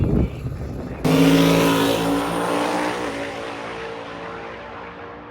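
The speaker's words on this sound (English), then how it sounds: "our 8 radial cars are loaded in the lanes, and we're ready for some fast passes" Radial drag racing cars at a Sick Week drag race launch with a sudden loud roar about a second in, then hold a heavy, sustained engine blast that slowly fades as they run away down the strip.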